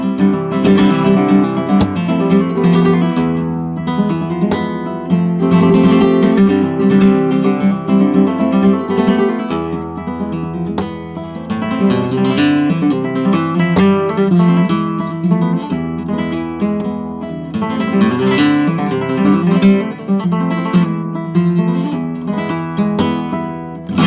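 Instrument played through an AER Compact 60 acoustic amplifier with the amp's own reverb added, a loud, continuous melodic passage with sustained chords and a reverberant tail, no talking.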